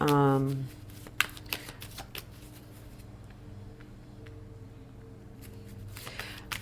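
Tarot cards are shuffled in soft, quick riffling bursts and light flicks, faint and close, with a voice speaking at the start and music in the background.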